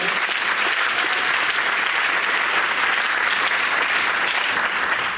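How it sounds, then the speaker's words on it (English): Sustained, dense audience applause fills a high school senior achievement awards ceremony, steady and loud throughout without a break, many hands clapping together in a large room. "How about a round of applause for Ms. Kish and all of our presenters?"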